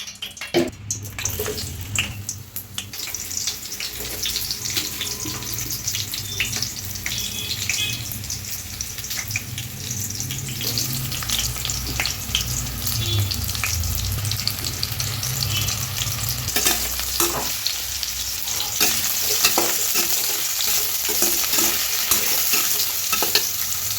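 Raw plantain frying in a pan, a steady broadband sizzle running throughout with occasional scraping stirs, fairly loud and close with no voices.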